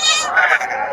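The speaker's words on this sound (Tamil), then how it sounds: "செம்மறி தான் இது" Sheep at the Ranipet goat market giving a single close, loud bleat, with market chatter faintly behind.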